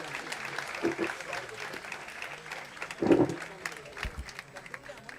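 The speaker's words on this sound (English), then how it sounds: "Can we please give a huge round of applause to Dr. Uday Salunkhe, sir." A round of applause from an audience at a promotional event, fairly faint and spread through the room, with a few louder bursts and crowd murmur mixed in.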